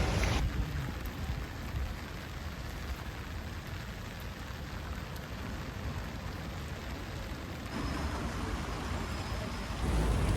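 Rain falls steadily on a Belfast street, a soft, even hiss of drops that holds for the whole stretch and swells slightly near the end, with no talking.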